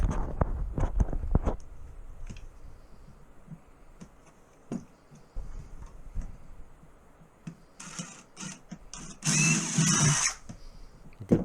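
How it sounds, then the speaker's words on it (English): A power drill bores holes during a bathroom renovation, with short bursts of whirring separated by knocks and handling noise, the longest burst near the end. "We're just drilling out all the proper size holes and everything to access all the stuff."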